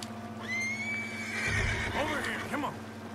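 A horse in the video game Red Dead Redemption whinnies loudly in a long, rising then falling neigh, followed by a few snorting calls and some hoof thuds.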